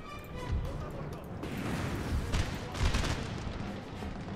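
Musket volley fire in Napoleon: Total War rolls as a continuous crackling fusillade of distant shots, muffled and sustained beneath the ongoing battle din.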